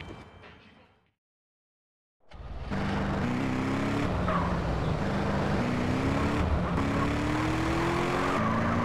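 A car driving in GTA San Andreas: after a brief silence the engine starts and holds a steady close hum, its pitch climbing and then resetting through gear changes, with road noise underneath.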